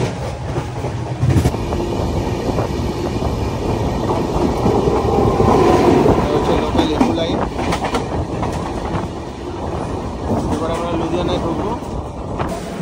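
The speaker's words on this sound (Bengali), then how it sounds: "এখান থেকে দেখুন এই ট্রেনটা বেরোচ্ছে" A train pulls out of the station at Ludhiana with a loud, continuous rumble and a rhythmic clickety-clack of wheels over the rails, heard from close by.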